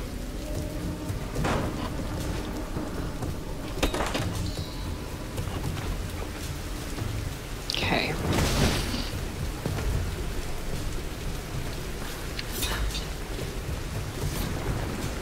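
A thunderstorm rages in the Tomb Raider game: steady heavy rain hisses throughout, with a few sharp thunder cracks and a louder rumbling crash near the middle.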